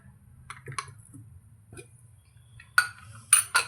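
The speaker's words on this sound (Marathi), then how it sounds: "चटणी बनवण्यासाठी मी गॅसवरती एक पॅन ठेवलेला आहे" A pan is set on a gas stove with a few light clinks and taps, then three sharp metallic clatters near the end, close in an otherwise quiet kitchen.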